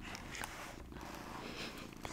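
A pet cat purrs softly up close, a faint steady rumbling texture with slight rhythmic pulsing, mixed with light rustling handling noise in a quiet room.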